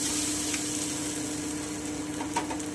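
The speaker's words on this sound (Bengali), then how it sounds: "আমি একটুখানি ভেজে নিচ্ছি এক থেকে দু মিনিট" Sweet potato frying gently over low heat in a pan for a chutney, a steady soft sizzle running evenly throughout with a faint tap near the end.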